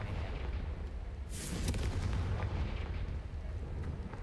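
In the Hogwarts Legacy video game, a Confringo blasting spell goes off as one loud burst with a rushing, rumbling blast. It swells over constant game ambience, then trails off into a lingering roar.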